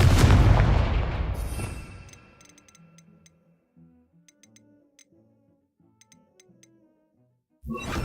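Loud blasting-spell explosion from a Harry Potter-style wizarding video game, a big booming burst that decays over about two seconds, followed by quiet clicking game effects and another burst starting at the end.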